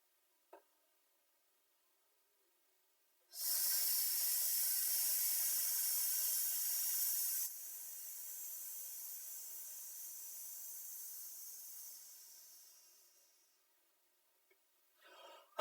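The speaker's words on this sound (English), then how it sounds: "And now breathe in and hiss out for 16." A singer's breathing exercise: after silence, a long steady breath hissed out through the teeth, loud at first then softer and fading out over about eight seconds, alone without talk.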